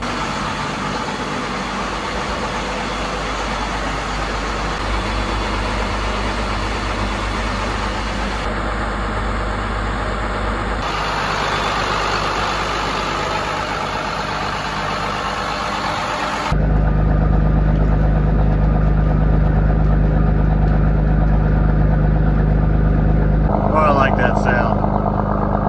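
A boat engine runs at a steady RPM on a lake trip, giving a continuous low mechanical drone that holds level, then grows louder and heavier partway through and keeps droning to the end.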